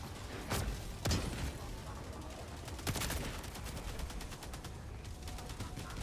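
Stim pistol shots in the Helldivers 2 video game, several sharp bursts spaced a few seconds apart over a dense bed of ongoing battle gunfire.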